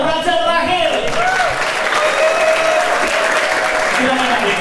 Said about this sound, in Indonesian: kita sambit dengan tepuk tangan raja terakhir